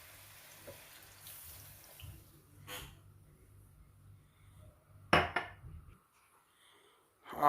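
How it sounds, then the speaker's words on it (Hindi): Soft running water and splashing as a glass of water is poured into a cooking pot with ginger-garlic paste for mutton karahi, with a couple of louder bursts of pouring and clatter, fading out near the end. "और 1 गिलास में पानी डालूंगा इसमें"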